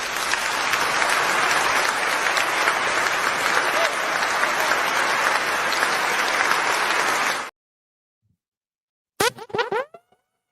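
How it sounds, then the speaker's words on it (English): Loud, dense applause fills the first seven seconds, then cuts off to silence before a brief springy boing effect near the end. "Give yourself a round of applause."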